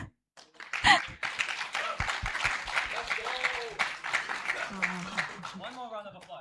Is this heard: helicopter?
no